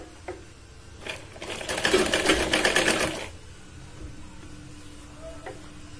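A sewing machine stitches a katori blouse in one short, close burst of rapid rattling stitches lasting under two seconds, surrounded by quiet room noise.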